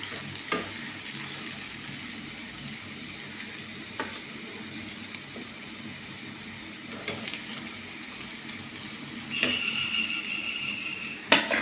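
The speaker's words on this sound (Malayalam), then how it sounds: "പൊട്ടറ്റോ ഞാൻ വെളിച്ചെണ്ണയിലേക്ക് ഇടാണ് കേട്ടോ." Potatoes frying in hot coconut oil in a pan, a steady close sizzle with occasional stirring clinks and a brighter hiss swelling near the end.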